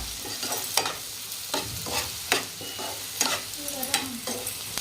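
Macaroni stirred in a hot pan after a tablespoon of chilli powder goes in, with a steady sizzle broken by repeated sharp spoon scrapes and knocks against the pan, close and alone without any voice.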